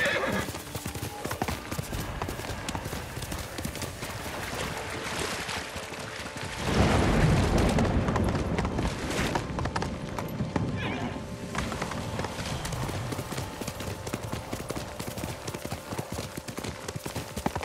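Steady clip-clop of horse hooves with a horse neighing in the video game Ghost of Tsushima, a louder rumbling burst midway, and some talk underneath.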